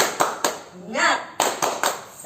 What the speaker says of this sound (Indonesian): Kita kasih tepuk semangat dulu. Tepuk semangat.